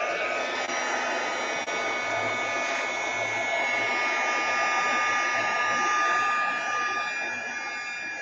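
Heat tool blowing hot air over a freshly applied coat on a mini book to fuse it, a loud steady hissing whoosh with a faint electric whine, continuous and close throughout.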